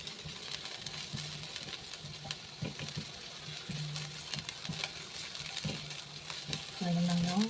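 Food sautéing in a pan at lunchtime, a soft steady sizzle with occasional stirring scrapes and clinks, fairly quiet and close, swelling slightly louder near the end.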